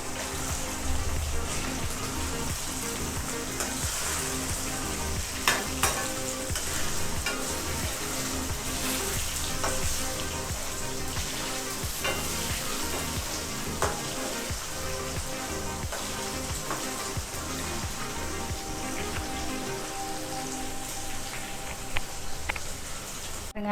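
Marinated chicken pieces deep frying in hot oil for Indian-style butter chicken, a loud continuous sizzle with rain-like crackling and occasional sharp pops, close and unbroken throughout without talking.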